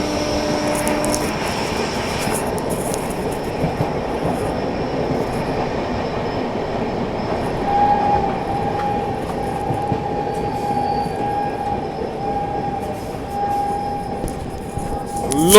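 The Varanasi–New Delhi Vande Bharat Express overtakes on an adjacent track, a loud continuous roar of wheels and rushing carriages with a faint whine rising midway, heard steadily from nearby.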